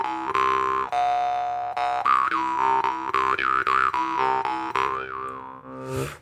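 Panov jaw harp played up close, its buzzing twang pulsing in a rhythmic series of plucks with a wah-like shifting tone, alone without talk.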